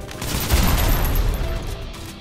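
Dense, continuous gunfire rattles loudly at close range as a tank is shot at in the video game Snowbreak, a steady barrage with no pauses.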